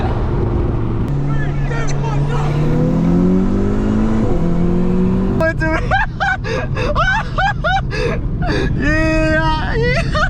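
A Stage 2 tuned Audi S3 with a catless downpipe revs, its rising turbo engine tones sweeping up and down up close, followed by excited shouting voices over the engine noise.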